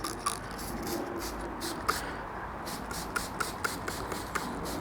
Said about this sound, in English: I will then just spray the lubrication onto the surface.